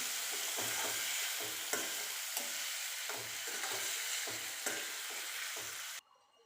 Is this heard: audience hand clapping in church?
no